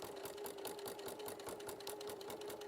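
A sewing machine with a walking foot stitches fabric at a quick, even pace, its rapid repeating needle strokes forming a steady mechanical whirr with a faint hum, close but quiet, and no one talking over it.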